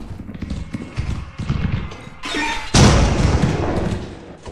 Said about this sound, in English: Someone fucking exploded!